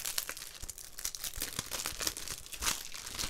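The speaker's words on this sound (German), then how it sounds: "War natürlich klar, dass man noch mehr Papier auspacken muss" Paper packaging crinkling and tearing as a game collector's edition for Anno 2205 is unwrapped, with close, continuous rustling and crunching and no talk over it.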